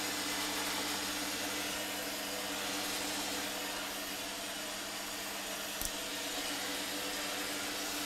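A Holzmann ED 750 FDQ lathe turns stainless steel under automatic feed, producing a constant, steady machine hum and hiss with one brief faint tick near the end.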